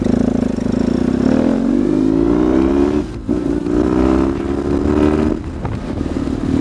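A BMW R 1150 GS big boxer-engine motorcycle rides along, its engine loud and close, revving up through rising gears with two brief dips between shifts, and no voices.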